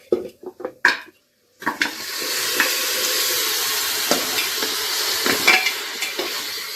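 Goat trotters for paya soup are stirred with turmeric and salt in a pot, starting with several sharp knocks and a brief pause, then a steady close sizzle broken by scraping spoon strokes.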